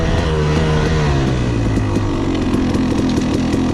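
A 2016 KTM 300 XC two-stroke dirt bike engine revs hard while being ridden, loud and close, with a buzzing, rising and falling pitch as the throttle works.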